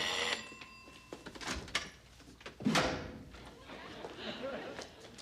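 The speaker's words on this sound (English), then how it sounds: "Then the sound of the front door opening." A door rattles and creaks open amid scattered clunks, with a voice talking softly in the background.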